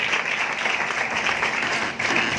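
A church congregation bursts into loud, dense applause, many hands clapping together in a sustained, even roar that fills the room without pause.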